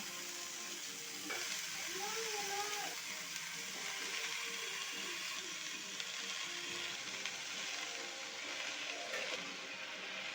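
Onion stalks and spinach sizzling in a pan with a fish head and ground spices, a steady close frying hiss with occasional stirring scrapes, no talk over it.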